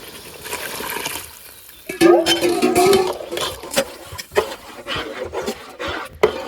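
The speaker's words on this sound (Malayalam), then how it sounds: "നല്ലോണം ഇളക്കി കൊടുക്കേ. അരി തിളച്ച് വരുന്നുണ്ട്." Rice and water stirred in a large biryani pot as the rice starts to boil: sloshing, swirling strokes of a ladle through liquid, loud and close, coming in uneven bursts, with no voices.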